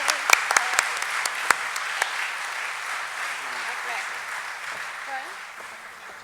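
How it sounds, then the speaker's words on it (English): A conference audience at a county agents' general session claps for Henry, a few loud, close claps up front over a steady round of applause that slowly fades, with murmuring voices beneath it. "please give Henry a huge round of applause right now"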